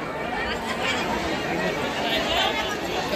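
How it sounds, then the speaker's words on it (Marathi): Dense crowd murmur fills the Khandoba temple at Jejuri on a busy Sunday, a steady wash of many overlapping voices close around, with no single speaker standing out. "आणि आज रविवार असल्यामुळे प्रचंड गर्दी आहे."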